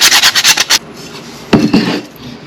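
Frozen ginger grated for a ginger carrot salad: a quick burst of close, loud scraping strokes, a short pause, then a few slower rasps.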